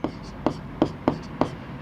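Pen or chalk writing out a geometry solution during a maths lesson on similar triangles, heard as five short scratchy strokes at a steady rhythm, close and moderately loud with no talk.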